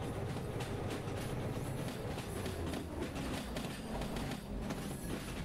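A train in the Derail Valley railway game rolls along its rails with a continuous, loud clattering rumble and rhythmic clickety-clack of wheels, steady throughout with no talk.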